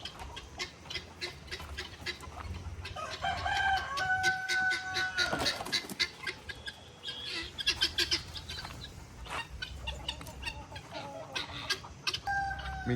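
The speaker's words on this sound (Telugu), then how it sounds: "ఇది పాములు తినే కోడ్లు ఇవి." Chickens on a poultry farm cluck and call repeatedly, with a rooster crowing in the mix, a busy flock sounding close by and without speech.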